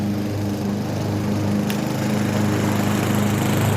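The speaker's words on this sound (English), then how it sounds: "I got a lawnmower, so if you can hear that, I apologize." A neighbor's lawn mower drones steadily nearby, its engine hum constant and loud with no talking over it.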